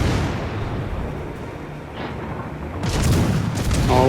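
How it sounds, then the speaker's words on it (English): Heavy warship guns boom in World of Warships Legends, dense low rumbling blasts building toward a louder cluster of shots near the end, with continuous battle noise underneath. "Let's lay into him with all the guns."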